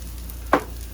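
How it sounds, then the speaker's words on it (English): A brief burst of onions sizzling in a frying pan rises suddenly over a low steady hum, then fades back within a fraction of a second. "You got that sizzle going on"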